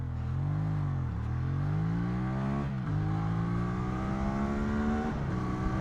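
A QJ Motor SRV 550 ST motorcycle accelerates hard through several gears, its engine note climbing steeply, dropping briefly at each shift and rising again, loud and close with steady wind noise underneath.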